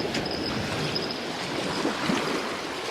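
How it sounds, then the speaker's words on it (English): Steady beach surf washes on the shore at Cullykhan beach in Aberdeenshire at night, and a faint, thin bell on a fishing rod rings intermittently above the continuous roar of the waves. "I love to hear that bell rattling."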